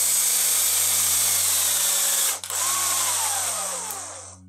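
A power drill bores drainage holes into an old camera lens turned plant pot, a loud close whine that cuts out briefly midway then resumes, with a rising scraping squeal toward the end.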